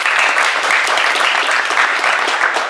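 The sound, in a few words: audience applause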